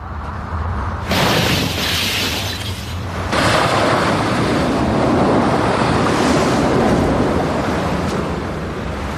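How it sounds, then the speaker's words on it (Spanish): Strong wind above 215 km/h lashes skyscrapers, a loud, continuous roaring rush with surging gusts and surf-like swells throughout. "Vientos de más de 215 kilómetros por hora sacuden a los rascacielos."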